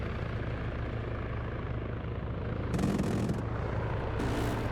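Steady, heavy helicopter rotor noise from a game, a continuous low chopping roar that swells slightly louder midway with short bursts of brighter hiss layered on top.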